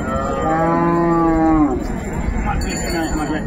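A close, loud cow moo rises and holds for about a second and a half before cutting off, followed by quieter crowd murmur at a village cattle market selling milking cows and calves in Dinajpur.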